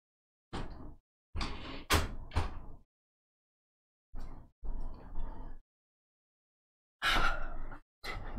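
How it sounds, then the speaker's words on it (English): Indoor door being shut during a home stream: a series of close, sharp knocks and scraping bumps in several clusters, then a final firm thud and clatter, with breathy pauses between. "Actually, let me shut this door."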